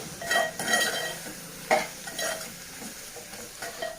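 Chili powder being stirred into an oily dried-fish, egg and brinjal curry, spoon scrapes and clatter against the pan in uneven bursts over a low sizzle, close by with no talk.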